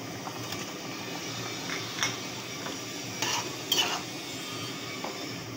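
Mango pieces go into a thin, watery fish and prawn curry simmering in a pan, with steady stirring scrapes, a soft sizzle and a few sharp clinks of utensil against the pan, close by and without talk.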